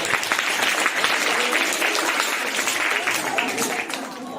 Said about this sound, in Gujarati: ચલો સરસ, તાળીઓ વગાડો ભાઈ.